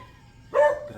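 A single short dog bark rings out sharply and close after a quiet moment, with a brief trailing whine.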